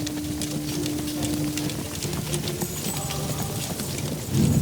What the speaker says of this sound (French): Leurs petits chevaux fougueux dévalent la pente de ce coteau vers la plaine